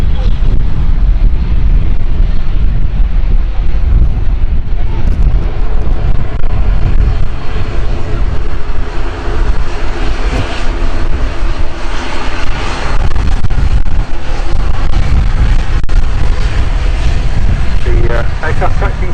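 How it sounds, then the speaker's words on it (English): A Loganair ATR 72 turboprop taxis fast at Manchester Airport, its loud engine drone steady and close throughout. Wind rumbles against the microphone and people talk faintly underneath. "Aircraft taxiing fairly fast in front of us, which says Logan Air at Scotland Airlines. On the side is an ATR 72 aircraft."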